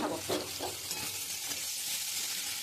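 Potatoes fry in a pan with salt, chilli powder, cumin powder and coriander powder for a snake gourd and bori curry, giving a soft continuous sizzle with stirring scrapes and no talk.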